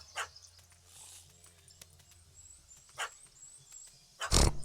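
A dog barks in short, sharp bursts at a cat up a tree in the Witcher 3 video game, a few scattered barks with the loudest close at the end, over quiet ambient game sounds.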